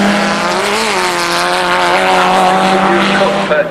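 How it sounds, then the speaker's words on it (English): Race-prepared VW Golf GTI cars roar past at Cadwell Park during a 2001 VW Cup race, a loud sustained engine note with shifting pitch as the field streams through, continuous and close throughout. "a very rapid Golf GTI it is, and through goes the rest of the field"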